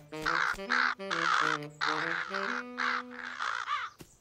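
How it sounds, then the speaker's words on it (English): Cartoon crows caw loudly in a rapid run of harsh, overlapping calls, several birds close by around a scarecrow, with brief gaps between bursts. "The birds aren't scared of the scarecrow"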